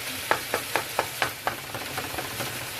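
Ground beef for tacos sizzles in a pan under a soft steady hiss while a utensil scrapes and chops it in quick regular strokes, about four per second, close up.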